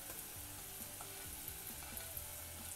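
Onion, ginger and garlic fry in a pan, giving a steady close sizzle with soft stirring scrapes throughout; no one speaks.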